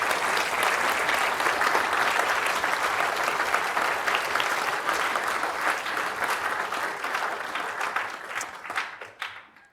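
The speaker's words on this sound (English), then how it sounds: "can you give Library Exec and Leadership team another big round of applause?" Loud, sustained applause from a conference audience at a university library plenary session, dense steady clapping that fills the room and tapers off near the end.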